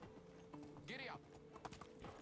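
Horse galloping in the video game Medieval Dynasty, with quick rhythmic hoofbeats and a short whinny, close and steady, while a person speaks over it.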